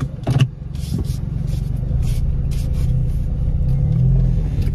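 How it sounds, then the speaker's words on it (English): Four-cylinder turbo engine of a 2024 Ford Mustang Convertible accelerating on a track, a loud steady low rumble heard from inside the car that builds gradually after a brief bump at the start. "So a four-cylinder turbo, 315 horsepower."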